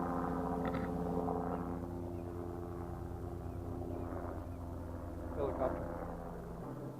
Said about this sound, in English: Chopper. Might be a life flight chopper.